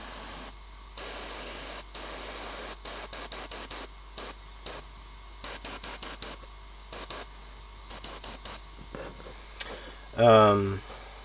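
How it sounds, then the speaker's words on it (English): An airbrush sprays a bright paint coat onto the armor of a Warhammer miniature in short repeated hissing bursts of varying length, fairly close, with a brief louder noise near the end. "I will now paint some basic lights on the armor as well, when I already have this bright color in the airbrush."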